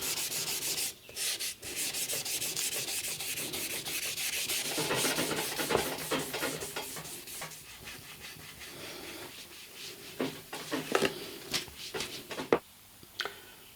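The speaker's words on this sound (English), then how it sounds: "just cleaning them up with a bit of very light wet and dry paper or waterproof paper" A radio part from a UNIC Royal set is rubbed with very light wet and dry paper during restoration, giving quiet, close, rhythmic scraping strokes that quicken into short repeated rubs toward the end.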